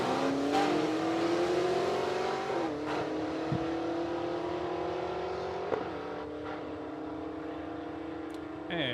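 Mustang drag cars at Saskatchewan International Raceway launch and roar down the strip, engines rising in pitch through upshifts with sharp gear-change breaks, a loud sustained run that gradually recedes, no talking.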